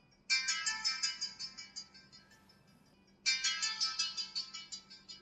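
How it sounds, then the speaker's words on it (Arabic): A loud smartwatch ringtone plays through the watch speaker in two bursts of a bright, rapid melodic chime, each about three seconds long, repeating after a short pause with no talk. "ولكن هو صوت السبيكر عالي في الرنه، عالي جدا في الرنه."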